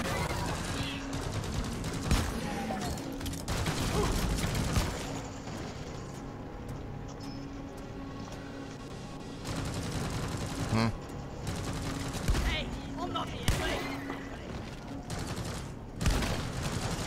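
Sentry turrets in Deep Rock Galactic keep firing at a swarm, with dense rapid bursts of gunfire layered over a constant droning mechanical hum, near and loud throughout.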